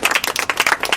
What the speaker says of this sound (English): I think it deserves a round of applause from Gary.